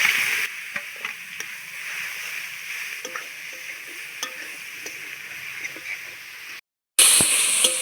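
Grated radish tipped into hot oil tempered with spices and bay leaves, setting off a steady close sizzle with stirring scrapes and a brief break before the frying resumes.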